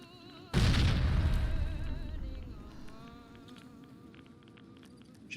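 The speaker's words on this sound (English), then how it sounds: "now we're going to toss some frag grenades" A single deep, booming frag grenade explosion in Fallout: New Vegas bursts in loud and close, then rolls off into a long, fading rumble with faint buzzing in the background.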